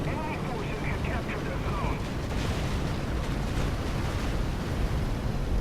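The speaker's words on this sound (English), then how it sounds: "this is really loud with the artillery going on" Artillery fire in the tank game War Thunder makes a loud, continuous, rumbling roar of distant blasts and booms that fill the whole stretch without pause.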